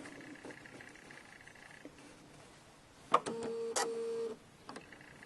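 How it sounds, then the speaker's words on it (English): Domestic sewing machine running a quilt seam through lined-up fabric under the presser foot, a short steady mechanical whir of about a second preceded by a sharp click, close and fairly loud over quiet room tone. "that's where we're going to start sewing"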